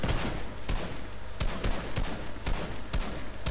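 Rapid bursts of gunfire from an aimbot player in Fortnite, several sharp shots in uneven clusters over continuous game noise, loud and close.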